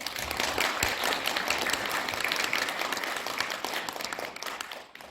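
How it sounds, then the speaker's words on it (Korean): An audience at a year-end Buddhist ceremony and general meeting breaks into steady, dense clapping that holds strong for several seconds before fading out at the end. "박수 한번 부탁드립니다"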